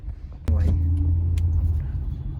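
A car engine gives a steady low rumble heard from inside the car, starting abruptly and running continuously with a brief faint voice near its start.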